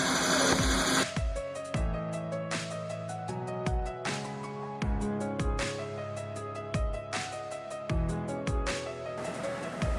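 CNC machine completing a machined part, producing loud rhythmic mechanical thumps and clatters in bursts about every second, with whirring between strikes, close and without speech.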